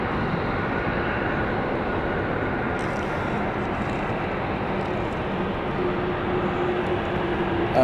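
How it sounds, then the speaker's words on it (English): An airliner on the Florence flight taxis at London City Airport, giving a steady, broad engine rumble and whine that holds even throughout, fairly loud with no talk over it. "It is now taxiing."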